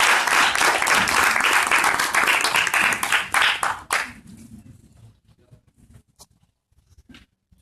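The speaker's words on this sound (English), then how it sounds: "let's give a round of applause for all of our clerk candidates" An audience at a local Pride candidate forum claps for the clerk candidates, loud dense applause for about four seconds that then thins out to a few scattered claps and quiet room noise.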